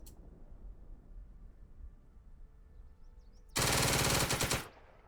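Tank machine guns firing in the video game Second Front, a loud harsh sustained burst lasting about a second after a quiet stretch, then cutting off into a short fading tail.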